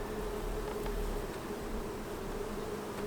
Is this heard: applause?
no